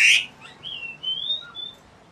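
White starling (jalak putih) in an aviary gives a sharp high chirp followed by a thin rising and falling whistle, fairly close and alone, with no talk.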